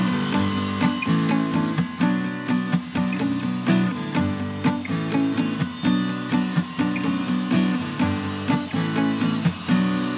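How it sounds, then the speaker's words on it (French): Circular saw cutting a wooden board along a guide rail in a workshop, a steady buzzing cut with regular rhythmic pulses throughout, close and fairly loud with no talk. "Ensuite, vous prenez la scie, vous calez contre votre rail, levez un peu le carter et c'est parti."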